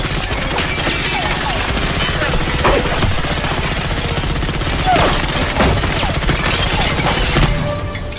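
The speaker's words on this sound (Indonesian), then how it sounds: "Hanji memberondong dengan tembakan." Rapid automatic gunfire fills a dramatic action-film scene, a dense sustained barrage of bursts with sharp cracks and loud, continuous intensity over a busy mix of effects and music.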